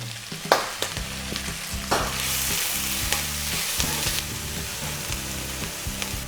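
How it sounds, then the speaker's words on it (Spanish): Chopped onion sautéing over medium heat in oil already used to fry chicken, a loud, continuous crackling sizzle punctuated by a few sharp utensil knocks and stirs, heard up close without speech. "En este mismo aceite voy a sofreír la cebolla que hemos cortado al principio."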